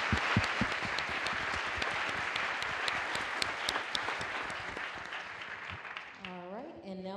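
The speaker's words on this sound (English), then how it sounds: "I do want a round of applause for the flight dynamics team" Audience applause at a NASA OSIRIS-REx asteroid sample press event, a dense patter of many hands clapping steadily, moderately distant, fading as a voice begins speaking near the end.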